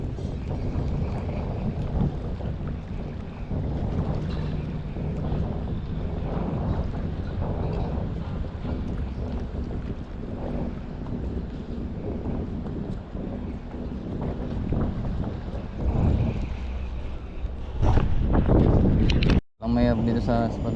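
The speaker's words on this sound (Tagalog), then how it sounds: "Ang mayroon dito sa spot natin. Daming bangka." Boats sit and move on open water at a crowded fishing spot, with a steady low rumble and heavy wind buffeting the microphone throughout, while people talk nearby and a brief louder clatter comes near the end.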